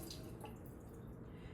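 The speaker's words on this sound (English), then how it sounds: "I'm just going to go ahead and pour some of my hot water into the bottom of the jar" Hot water pours into the bottom of a glass jar in a lab setting, a soft, steady liquid trickle lasting under two seconds, fairly quiet and heard alone.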